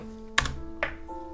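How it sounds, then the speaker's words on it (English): Two quick keystrokes on a computer keyboard as a Linux install command is typed, close and crisp over a steady electrical hum. "let's type emerge-q syskernel"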